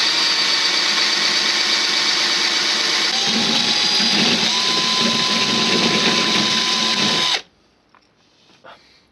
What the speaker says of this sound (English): You want to get a drill bit that's slightly smaller than the inside of the rivet itself.